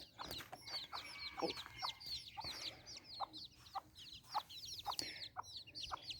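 Hens cluck steadily on a farm while baby chicks chirp in rapid, overlapping peeps close by, a busy continuous chatter with no talking.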